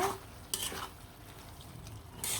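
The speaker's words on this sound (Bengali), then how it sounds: "আবারও চলে আসলাম ভর্তাটা নাড়াচাড়া দিয়ে দেওয়ার জন্য" A spoon stirs a dried hilsa fish bharta with softened onions in a pan, giving a few brief, quiet scrapes over a faint, low sizzle.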